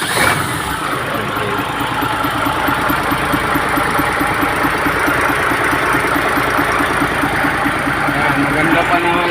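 A truck's diesel engine starts and then idles steadily, loud and close, with a constant rough rumble and people talking over it.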